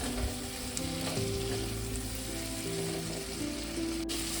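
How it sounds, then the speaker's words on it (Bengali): Potatoes stirred with spices in hot oil in a pan for a prawn fritter curry, giving a steady loud sizzle and frying hiss with occasional scraping stirs, close and continuous. "মশলাগুলোর সঙ্গে একটু আলুটা ভালো করে একটু নেড়ে নেবো, মিনিট 2 নেড়ে নেবো"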